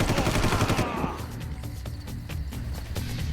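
Gunfire in Far Cry 5 starts with a dense, loud burst of rapid shots. It then thins into scattered, sharper single cracks over a low rumble.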